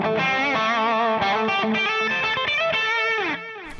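An electric guitar played through an overdrive pedal rings out in sustained, harmonically rich chords and bent notes, loud and close, then cuts off abruptly near the end.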